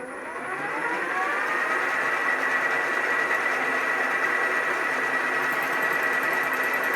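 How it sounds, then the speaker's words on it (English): An AJAX universal milling machine cutting a Hardox steel log splitter blade: the motor spins up over the first second, then holds a steady loud whine and hum with a continuous cutting drone, close and with no voices. "So we'll get this set up and take a few cuts, see how the machine works."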